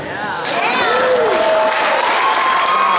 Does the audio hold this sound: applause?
yes